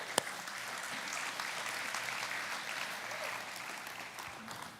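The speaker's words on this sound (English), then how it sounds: "give them a round of applause as they come up" A room of listeners gives a round of applause as three women come up to the front, a soft, steady wash of clapping heard from a distance, opening with one sharp tap and staying even throughout.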